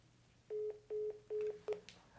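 Telephone keypad tones dialing a Tesla service center, four short, evenly spaced beeps followed by a brief final chirp, fairly quiet over a faint background hum.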